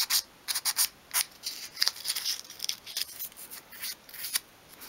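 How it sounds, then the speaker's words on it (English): Sandpaper rubbed along the edge of a small wooden part for a 1/12th scale miniature dressing table, giving quick close scratchy strokes in short irregular bursts. "you can also then sand from front to back just to create a bit of a chamfered edge"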